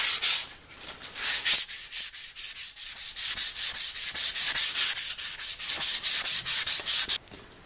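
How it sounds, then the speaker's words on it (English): Close, loud rhythmic strokes of 400 grit sandpaper rubbing along the metal barrel of a 1910s pop gun, a steady back-and-forth rasp of about two strokes per second that stops abruptly near the end. "So I've sanded it with 400 grit and it's all lovely and smooth and oiled"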